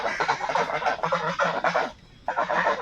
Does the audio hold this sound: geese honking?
yes